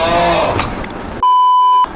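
A single steady electronic censor bleep, a pure tone lasting about half a second, cuts in sharply right after background talk and room noise, then stops abruptly.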